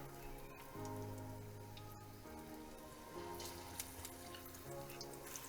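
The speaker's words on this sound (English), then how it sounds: "we're gonna drop them right in to our hot oil" Apple loukoumades dough sizzles and crackles as it fries in hot oil, a continuous bubbling hiss with low hum underneath.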